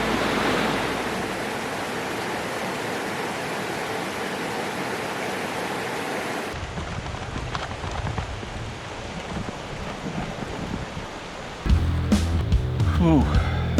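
Broad, steady rush of creek water flowing beside a country road on the eastern TransAmerica cycling route, filling the first half; then it thins into a softer background wash and is covered by louder close handling noise near the end.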